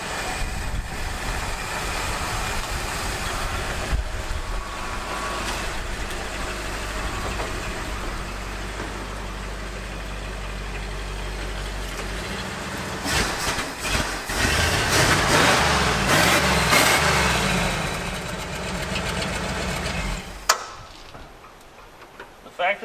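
An old, abandoned Ford Bronco being built into a cheap off-road rig runs with a steady, ticking idle. The engine stays close and continuous, then cuts off near the end.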